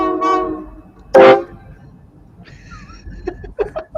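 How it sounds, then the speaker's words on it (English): A holiday train's horn honks through a downtown town crossing in Elkhart, one loud sustained blast standing out, followed by scattered shorter toots and crowd noise, with faint voices in the background. "You can hear the engineer honking the horn, saying hello to everybody as it comes through town."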